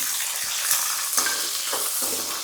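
Garlic and chopped small onions fry in a pan with dried red chilies, giving a close, steady sizzle broken by scraping stirs of a utensil, with no talking.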